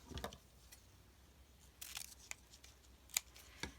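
Scissors snipping through ribbon during a purple-themed paper crafting session, a few short, sharp, close cuts separated by quiet pauses.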